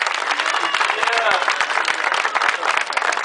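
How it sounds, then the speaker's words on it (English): Crowd applause at an outdoor downtown mural ribbon cutting in Asheboro, steady dense clapping from many people throughout with a few louder nearby claps and some voices mixed in. "can you give these folks a round of applause?"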